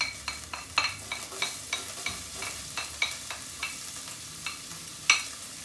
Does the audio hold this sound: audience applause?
no